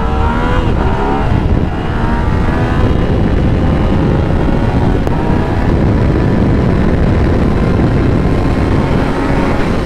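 A motorcycle rolls on the throttle from first gear, its engine note rising steadily and loudly with rippling harmonics that climb across the whole stretch, close by and with no talk.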